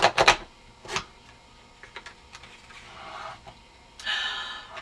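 Corner paper punch cutting blue paper, giving a few quiet, crisp snapping clicks spaced apart, with soft rustling of the sheet in between and no speech.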